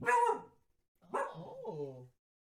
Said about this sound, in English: deaf dog barking